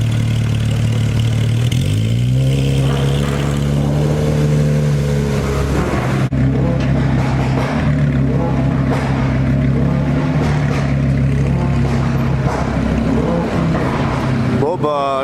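Supercar fitted with an Akrapovic exhaust pulling away on a road tour among other supercars, a loud close engine note rising steadily in pitch through the gears with a growling drone, people talking over it.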